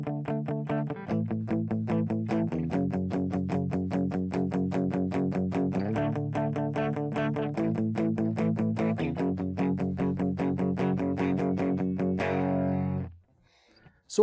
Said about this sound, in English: The first guitar part that comes in this song sounds like this.